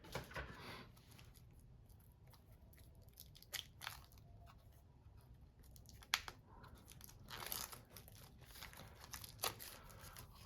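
Plastic shrink wrap on a tarot-sized I Ching oracle card deck is cut and torn open, giving close, quiet crinkling and crackling with scattered sharp snaps and rustles throughout.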